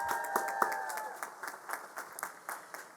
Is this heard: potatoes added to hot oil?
no